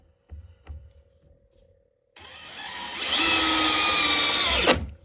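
A DeWalt DCD803 cordless drill spins up after some soft knocks, its whine rising and straining as it drives a number 10 drywall screw, then winding down at the end.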